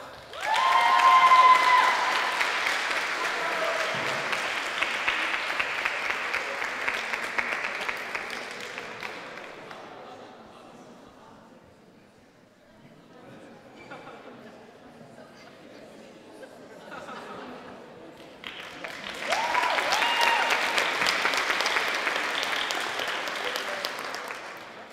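Audience applause at the awards of an international debate tournament final in Ljutomer, Slovenia: loud sustained clapping with crowd chatter, fading to a quieter murmur midway, then a second strong burst of applause.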